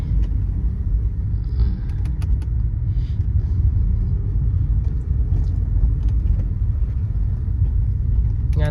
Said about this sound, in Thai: 5เกียร์คันนี้ ขับสนุก ขับสนุกมากกันเลย